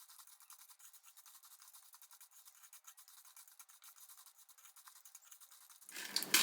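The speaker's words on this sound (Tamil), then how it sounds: "இப்போ நான் கொஞ்சமாக மிளகாத்தூள் போட்டு மிக்ஸ் பண்ணிக்கிறேன்" Crunchy kara boondi being tossed with chili powder gives a steady, soft, crisp rustling and scraping that swells louder and fuller in the final moment, with no voices.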